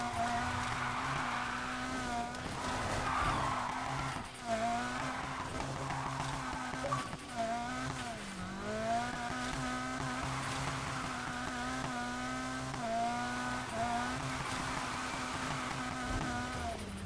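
A cheap drift car in the video game Need for Speed Heat, its engine droning and revving with wavering pitch as the tires slide, loud and continuous throughout.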